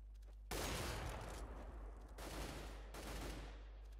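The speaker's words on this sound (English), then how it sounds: "I got shot from the tunnel" Gunfire in the video game Counter-Strike: Global Offensive, heard as two sharp bursts of rapid shots, the second starting around the midpoint, loud against a quiet low hum with no talking.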